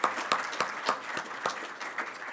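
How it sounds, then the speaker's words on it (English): Scattered applause from a conference audience: a few people clap unevenly for a couple of seconds, with sharp individual claps standing out over a thin, quieter patter. "Another round of applause,"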